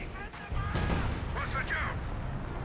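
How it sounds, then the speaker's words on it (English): Mortar and artillery fire in the strategy game Company of Heroes 2, a dense rumble of booms and battle noise beneath a commentator talking over it. "Mortars running on in on the AT guns."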